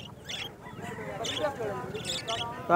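Cockatiels and other birds at a pet bird market chirp in short, bright bursts amid a busy crowd, with people talking throughout over the calls.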